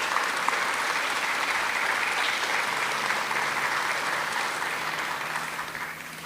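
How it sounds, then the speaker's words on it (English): Sustained audience applause for two Fort Worth Fire Department chiefs at a community vigil for Texas flood victims, a broad, even roar of many hands that holds steady and fades slightly toward the end. "Please give them a round of applause."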